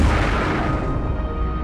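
A deep, rumbling explosion effect representing the Big Bang, a loud sustained boom with broadband roar that slowly fades over about a second and a half, heard alone.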